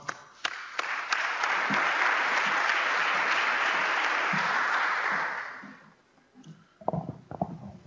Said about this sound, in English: have a round of applause for Stefano